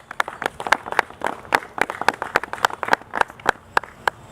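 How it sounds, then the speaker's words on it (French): Sparse, slightly irregular clapping from a small audience at a political declaration honouring the head of state, moderately close and steady throughout, with no voices on top. "Si nous pouvons applaudir pour le chef de l'État"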